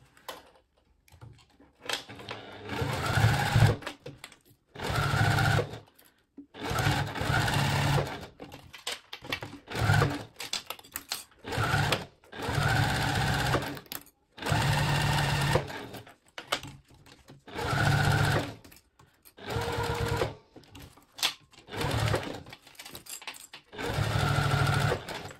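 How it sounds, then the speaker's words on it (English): A sewing machine stitches along the edge of a vinyl zipper pouch in repeated bursts of rapid mechanical whirring, each lasting a couple of seconds and separated by short pauses, loud and close. "I'll be stitching along this edge right here"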